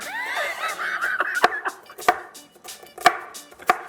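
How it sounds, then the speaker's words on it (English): Walnuts are chopped with a knife on a board in a few sharp, uneven strikes, close and clear. Giggling and a high squeal can be heard at the start. "We're gonna take half a cup of walnuts. With this knife, carefully chop it up."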